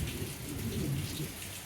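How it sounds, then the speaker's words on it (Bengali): Deep thunder rumbles steadily under a continuous hiss of falling rain, loud and close throughout the short stretch, with no voices. "মেঘ ডাকছে,"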